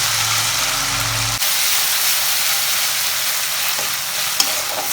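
Ginger and garlic paste fries in a pan, a steady close sizzle running unbroken throughout with a low stirring rumble in the opening second and a brief scrape near the end.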